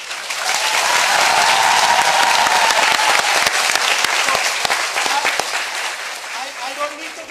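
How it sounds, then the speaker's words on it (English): A large audience at a graduation ceremony bursts into loud, sustained applause that swells, holds dense and even, then slowly thins toward the end. "Please welcome with a loud round of applause."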